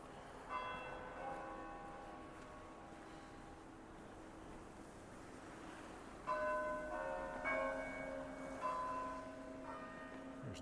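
Church bells at Knox Metropolitan church in downtown Regina ring out across the city on a January day, a sequence of ringing tones heard from a distance, with no talking.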